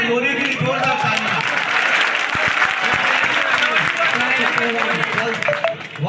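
Loud, sustained applause from a group of children in a school setting, a dense wash of clapping that keeps going for several seconds, with young voices shouting and cheering through it.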